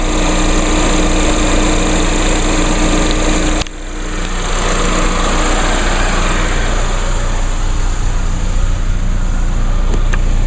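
A 2016 Chevrolet Equinox LT with a 2.4 liter four-cylinder engine idles in a steady, loud drone with a thin high whine, holding a constant tone throughout apart from one brief dip.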